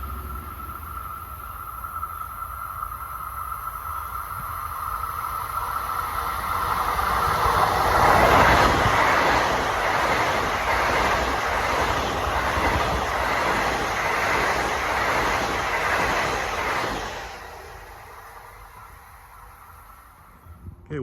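A Long Island Rail Road train, number 2057 made up of M9 cars, runs from Ronkonkoma toward Grand Central. It rushes past close by at speed, building to a loud, broad rumble and rail clatter for about ten seconds, then fades quickly.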